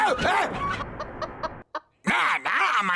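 Cartoon chickens cluck and squawk in a short burst of clipped, repeated calls between stretches of animated character talk, loud and close in a comic chase scene.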